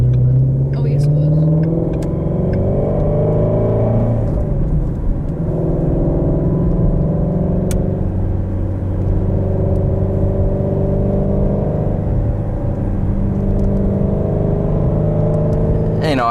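A 2018 Shelby GT350 Mustang engine drones loudly and steadily from inside the moving car, its tone rising and falling with the throttle over a continuous road rumble.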